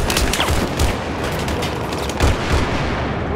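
Battlefield 4 firefight on the Zavod 311 map, a dense, loud barrage of overlapping gunshots and booms with no pauses, filling the whole stretch without talk.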